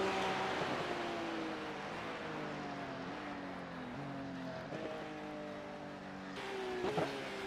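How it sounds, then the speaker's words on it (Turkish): A Porsche Cup race car in the iRacing sim at Interlagos, São Paulo, drones along with a steady engine whine that gradually drops in pitch as it slows, then rises briefly near the end, moderately loud and without talking. "Şöyle aracı güvenli bir yere çekeyim."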